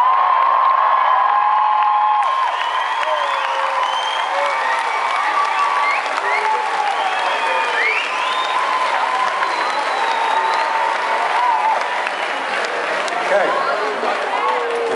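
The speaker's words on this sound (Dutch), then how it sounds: "wil ik jullie vragen om een bizar hard applaus voor mijn fantastische band" A live concert crowd applauds and cheers loudly for the band, sustained clapping mixed with scattered whoops and shouts, while whistle-like tones and some voices ride over the roar.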